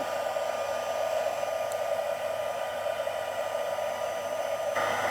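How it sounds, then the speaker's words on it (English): A handheld heat embossing tool blows a steady, continuous stream of hot air onto gilded gold leafing powder, a loud, even whir close to the microphone with no talk over it. "So I tend to get my heat tool hot first because I don't want to overheat this."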